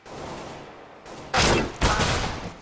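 Two bursts of automatic AK rifle fire in a competitive online shooter match, loud and close, separated by a brief gap over low background game noise.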